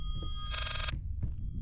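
A telephone bell in the horror game Layers of Fear gives one bright, metallic ring burst of under half a second over a low ambient rumble, then a faint knock, with no speech.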